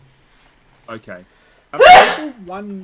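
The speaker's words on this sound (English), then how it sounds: "I'm about to sneeze." A single loud, sudden sneeze bursts out close to the microphone, preceded by brief speech and followed by a short spoken word.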